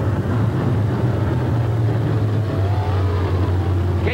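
King Kong monster truck roaring down its lane during a 1988 TNT monster truck race in St. Paul, a loud, sustained engine drone with a slight pitch shift, heard alone without talk.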